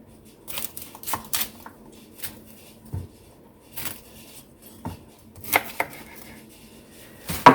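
A knife chops through cauliflower on a cutting board to cut out the central stalk, giving irregular sharp cuts and knocks, some in quick clusters, close and clear in a quiet kitchen.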